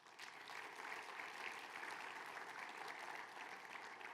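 A church congregation applauds Jesus during a sermon, steady dense clapping from many hands heard continuously at moderate distance, without talk over it.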